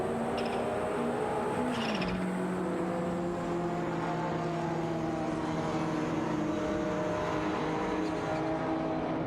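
Race cars, a De Tomaso Pantera and a Ferrari 512 TR, droning steadily in a racing video game, engine tones holding and shifting slightly, continuous and fairly even.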